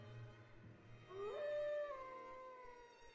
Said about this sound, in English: That howl, was that?